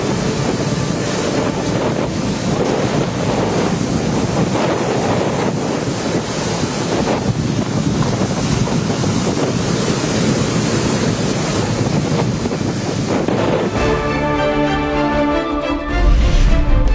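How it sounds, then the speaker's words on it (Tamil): Rough sea surf crashing and strong wind buffeting along the coast at Chennai Marina, Pattinapakkam and Karaikal during Cyclone Ditwah, a steady loud roar of breaking waves and gusting wind noise without speech. "டிட்வா புயலால் சென்னை மெரினா, பட்டினப்பாக்கம் மற்றும் காரைக்கால் பகுதிகளில் கடல் சீற்றம்."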